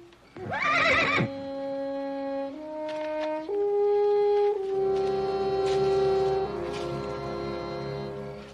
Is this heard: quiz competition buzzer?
no